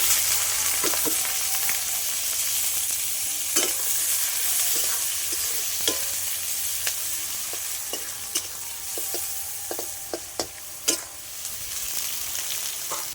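Chopped onion frying in hot oil with bay leaf, cinnamon and cloves for egg biryani, a close continuous sizzle broken by scattered pops and spatters and occasional stirring scrapes.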